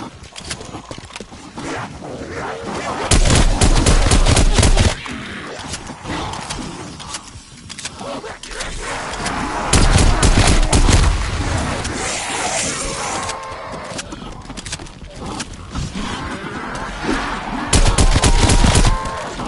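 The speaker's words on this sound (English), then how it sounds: "I will put this shotgun to work." Shotgun blasts and other gunfire ring out in a PS4 video game, with several loud bursts of heavy firing separated by stretches of rumbling battle noise and clattering effects.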